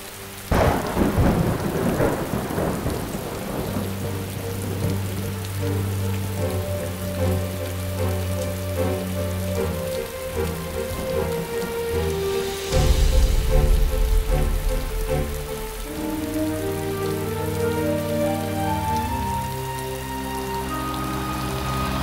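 Heavy rain pours steadily under rolling thunder, with a loud crack near the middle, while music plays alongside in a Vietnamese drama scene.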